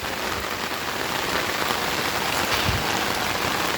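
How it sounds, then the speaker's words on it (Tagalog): Steady rain pours on a farm in Barangay Sumile, Butuan City, a dense, even hiss of drops striking surfaces that stays constant and fairly loud throughout, with no voices. "Kay giulan man ta sa atong paglaag."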